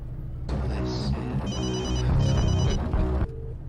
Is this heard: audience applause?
no